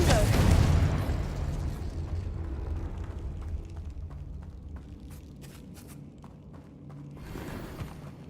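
A Confringo spell explosion in Hogwarts Legacy bursts loudly at the start, then rumbles and fades under scattered thumps and footsteps, with a second softer blast near the end.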